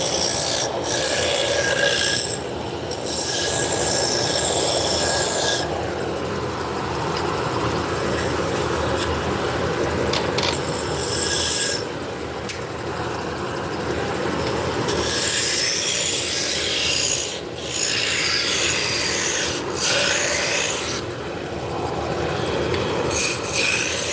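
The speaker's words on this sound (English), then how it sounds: "Yeah, so this lathe here is a Laguna Revo 1216." A Laguna Revo 1216 lathe turns wooden spindles, giving a loud, continuous rasping, scraping whir as the tool cuts. The cut swells and eases in long passes with brief lighter gaps between them, and there is no talk.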